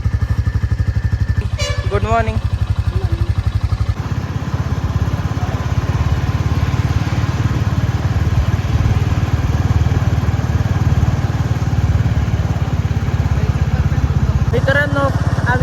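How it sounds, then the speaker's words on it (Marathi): A motorcycle cold-started and left idling to warm up, its rapid, steady engine putter loud and close throughout, with a person briefly talking over it. "यो गाडी आली आहे, आता तिला कोल्ड स्टार्ट करावे लागेल."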